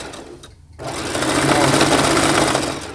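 A sewing machine runs steadily at close range, stitching a fabric strip onto a cloth diaper in one continuous loud burst after a brief pause.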